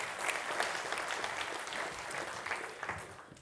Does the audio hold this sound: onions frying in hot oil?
no